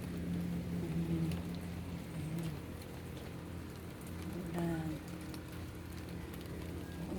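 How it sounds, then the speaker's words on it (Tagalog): Steady rain falls over a mountainside in the Sierra Madre, a continuous even hiss of drops with a low rumble beneath, heard throughout at moderate loudness with no one speaking. "Ulan."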